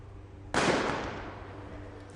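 A breaching round fired at a door during a SWAT team challenge goes off as a single loud, sharp blast that decays over about a second and a half into a rumbling tail, with no voices.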